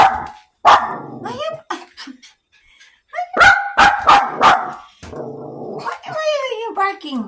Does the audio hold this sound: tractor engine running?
no